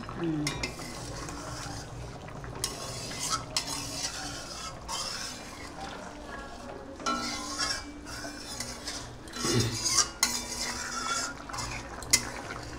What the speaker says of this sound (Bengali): এখন দর্শক বন্ধুরা আমি তরকারিটা নামিয়ে নিচ্ছি